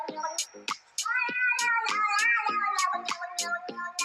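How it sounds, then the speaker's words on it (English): A cat meows repeatedly in a rapid, insistent series of loud, close calls, some stretched into a wavering caterwaul, with brief pauses between bursts. "This is a crazy cat."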